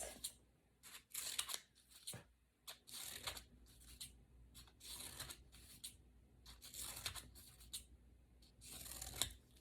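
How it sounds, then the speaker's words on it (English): Scissors snip through paper strips while shapes are cut out, a run of crisp, close cutting strokes in irregular bursts with brief pauses and light paper rustling between them. "We're going to cut out our shapes all together."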